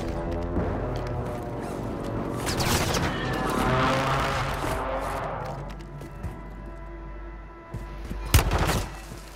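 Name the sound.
airstrike explosions in Call of Duty video game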